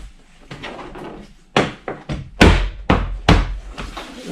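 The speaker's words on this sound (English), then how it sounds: "Take your palm, bump them, and you'll hear them lock." Plastic retaining clips on the driver side door panel of a Nissan NV200 being bumped into place with a palm, giving about six dull, close thumps at uneven intervals, the later ones louder.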